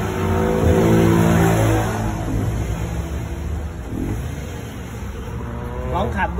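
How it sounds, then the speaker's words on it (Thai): A car engine fitted with an aftermarket ECU speed module set to mode 6 runs with a loud, steady rumble, strongest over the first two seconds before easing to an even drone, heard up close. "ปุ๊บมันจะได้ยินเสียงปีกผีเสื้อเปิดอย่างรวดเร็วเลยนะ"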